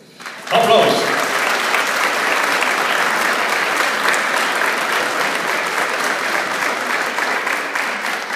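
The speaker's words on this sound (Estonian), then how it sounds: "Aplaus!" Sustained applause from an audience at a youth cooks' and waiters' vocational competition, starting abruptly and holding steady and loud throughout with dense, continuous clapping.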